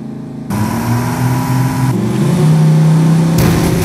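A car engine in a combat robot arena, driven forward to block a drone; a steady, loud motor drone with a rising tone, growing louder toward the end with no talk over it.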